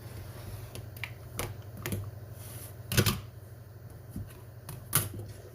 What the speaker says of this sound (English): Let's cut across this top edge here.